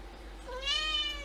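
A cat gives a single clear meow rising then trailing off, close and fairly loud over a low steady hum.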